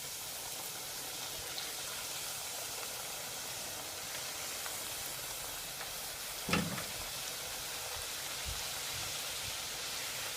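Papdi dough crisps frying in a pan of hot oil give a steady, even hiss of bubbling, with one brief louder crackle near the middle. The sound is close and continuous, and no one speaks.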